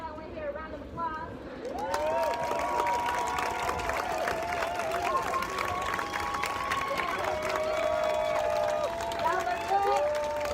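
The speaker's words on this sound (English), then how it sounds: "I want to hear a round of applause." Protesters at a Black Lives Matter rally in Chicago break into a round of applause and cheering, a loud sustained crowd roar that rises after a quiet start, with voices shouting over it.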